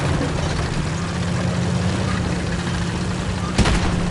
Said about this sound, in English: Enemy aircraft incoming!